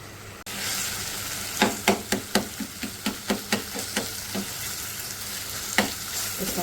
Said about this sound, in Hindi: अब ऑयल डालते जाएंगे और भुनाई करते जाएंगे